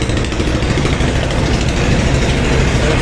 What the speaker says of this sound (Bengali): পিছনে রয়েছে ইঞ্জিন রুম